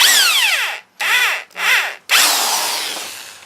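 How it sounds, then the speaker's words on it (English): A power drill bores into a steel railroad spike with close, loud whining bursts: three short runs separated by brief stops, then a longer sustained grind. "And I've reversed the drill."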